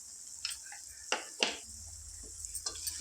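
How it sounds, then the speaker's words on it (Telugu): Chili powder and masala stirred in a pan for an egg curry, a few scraping stirs over a faint steady sizzle, close and fairly quiet with no talk. "బాగా కలుపుతున్నాం ఫ్రెండ్స్"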